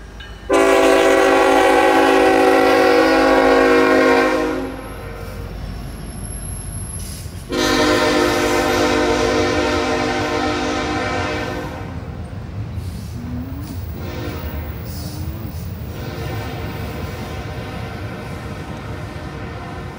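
A loud train horn sounds in two long blasts over the heavy rumble of a passing train, then fades into clattering wheels and faint squeals.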